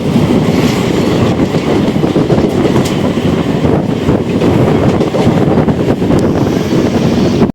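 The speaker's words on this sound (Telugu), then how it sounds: "మన ట్రైన్ జర్నీ అయితే అలా కంటిన్యూ అవుతుంది" Loud, continuous rumble of a train running between Tiruvannamalai and Tirupati, with rattling carriages and wind buffeting throughout.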